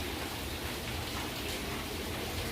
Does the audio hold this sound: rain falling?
yes